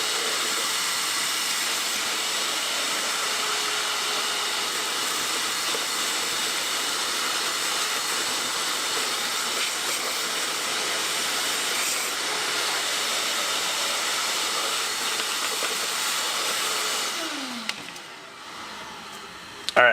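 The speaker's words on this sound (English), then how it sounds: "Let's vacuum this out." A vacuum runs with a loud, steady whooshing roar as it cleans out the air box of an abandoned old Honda three-wheeler motorcycle, then switches off and winds down in the last two seconds.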